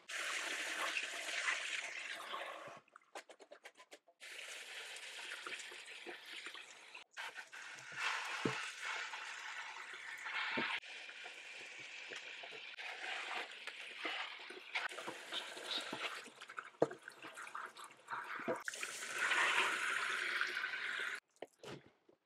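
Vegetables and garden herbs, including celery leaves, are rinsed under running water, with splashing, dripping and wet squishing in irregular bursts, close and fairly quiet, with short pauses between rinses.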